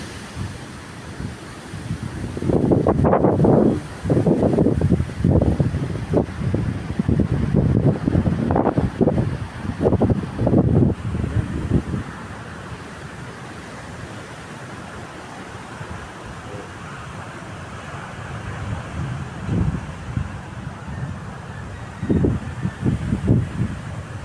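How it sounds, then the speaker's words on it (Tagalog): Strong typhoon gusts buffet the microphone in heavy, roaring bursts, easing off midway before rising again in fresh surges. "lakas talaga ng bagyo ngayon"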